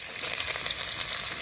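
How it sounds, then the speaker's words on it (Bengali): Chopped onions tipped into hot oil left from frying potatoes, already spiced with whole cumin, dried red chillies and bay leaves, giving a brief, loud, continuous close-up sizzle with no talk. "দিয়ে দেবো পেঁয়াজ কুচি।"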